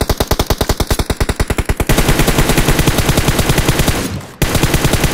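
Automatic gunfire in PUBG Mobile, a loud, steady stream of rapid shots that begins as distinct pulses and then runs on unbroken, with a brief gap near the end before the firing resumes.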